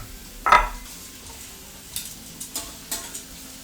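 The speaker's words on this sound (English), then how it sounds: "If you got your heat up correctly, it'll sear the shrimp real nice on one side" Shrimp searing with chopped garlic in a hot pan, a sharp hiss as they hit the surface, then a quieter sizzle with a few brief scrapes and clinks of utensils.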